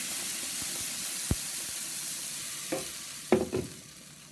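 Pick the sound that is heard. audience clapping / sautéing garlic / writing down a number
sautéing garlic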